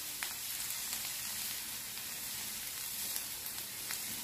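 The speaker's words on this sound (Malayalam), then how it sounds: "രണ്ട് പച്ചമുളക് ഒന്ന് വട്ടത്തിൽ അരിഞ്ഞെടുത്തതാണ് അതും കൂടി ചേർത്ത് കൊടുക്കാം എന്നിട്ട് ഒന്ന് നന്നായി ഒന്ന് വഴറ്റി കൊടുക്കാം" Onion, garlic and green chilies sautéing in a pan for paneer bhurji, a soft, even sizzle with faint stirring clicks throughout, quiet and without speech.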